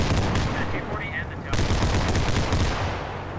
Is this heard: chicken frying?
no